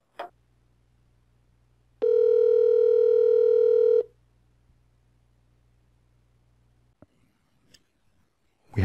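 A Grandstream GXP2170 desk phone on speakerphone gives a low hum, then a loud steady tone lasting about two seconds, followed by a few faint short clicks and beeps from the keypad.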